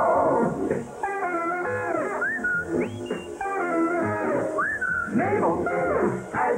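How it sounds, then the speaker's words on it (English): Cheerful melodic whistling from people in a 1961 Carling Black Label beer jingle carries a bright tune of gliding and held notes over soft instrumental backing. "The best of all good friends agree as they whistle cheerfully."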